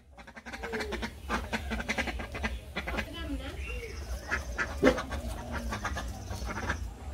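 Ducks quack intermittently in a village yard where a boy is playing with them, the calls scattered among people talking and general outdoor noise.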